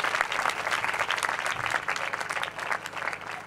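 Worshippers at a village Christian prayer gathering clap together in a lively, rhythmic burst, a dense wash of hands that carries on evenly from start to finish.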